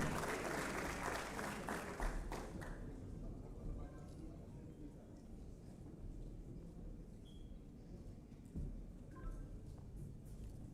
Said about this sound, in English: Please give a big round of applause and a huge welcome to Mr.